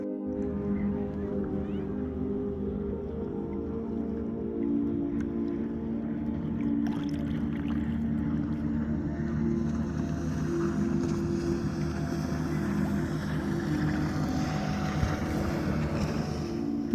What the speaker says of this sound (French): Les bateaux de pêche commençaient à arriver